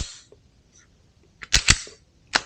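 A Rost Martin RM1S pistol is dry fired, with a faint trigger movement followed by two sharp close metallic clicks of the trigger break and reset, then another single click a moment later, alone in a quiet room.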